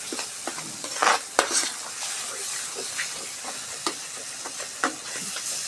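Paneer bhurji fries in a pan as it is stirred, giving a continuous hissing sizzle punctuated by frequent scraping and tapping strokes of a utensil.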